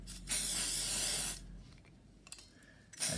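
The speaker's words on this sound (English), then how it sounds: "And then you can use a silicone spray and just give each piece" One long hiss of silicone spray on Bugaboo Fox stroller brake parts, close and steady for about a second, then a quieter pause and a short second spurt at the end.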